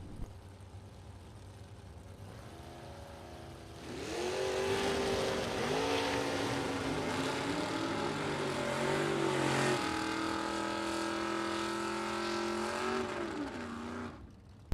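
A 2000 Chevrolet Camaro on a drag race run is heard from a distance. Its engine note rises sharply, then holds a strained, climbing roar with gear-change dips for about ten seconds before fading out.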